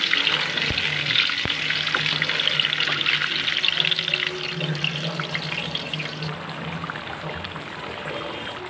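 Seven boiled, peeled eggs fry lightly in a pan, producing a dense, even hiss of oil close by that holds steady and eases slightly toward the end.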